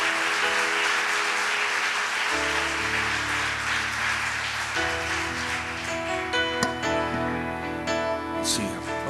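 A church congregation applauds in gratitude during a service, with sustained clapping under sustained keyboard chords.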